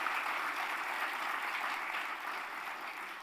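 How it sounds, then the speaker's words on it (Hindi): Audience applause at a felicitation event, a dense, even wash of many hands clapping that holds steady throughout and fades slightly at the end, heard from some distance. "जोरदार तालियों बजाकर आनंद व्यक्त कीजिए"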